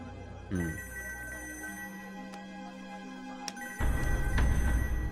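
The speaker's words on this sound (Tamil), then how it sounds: "இந்த நேரத்தில் போலீஸ் ஸ்டேஷனுக்கு ஃபோன் வருது?" A telephone rings at a police station at night, a repeated electronic ring under a steady background hum, with a brief swell of noise after it.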